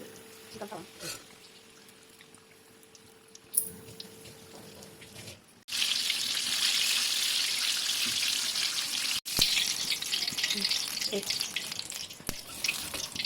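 Corn samosas made with readymade sheets deep frying in hot oil, a loud steady sizzle that starts abruptly partway through after quieter kitchen sounds, with a brief break, while a person talks.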